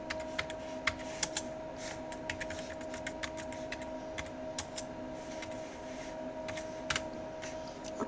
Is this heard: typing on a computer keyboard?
yes